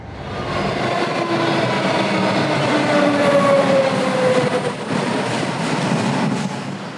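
A Melbourne Metro train rumbles through the underground City Loop beneath the CBD, a loud sustained roar with droning tones and faint wheel rhythm.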